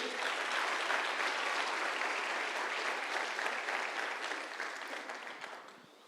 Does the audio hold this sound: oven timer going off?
no